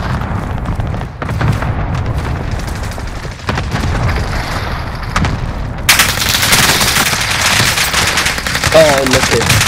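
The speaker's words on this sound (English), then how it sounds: "You can shoot him, yeah, with a Mach 10." Gunfire rattles in the video game Call of Duty: Modern Warfare, rapid bursts of automatic shots and thuds near and loud, with a player talking over the action throughout.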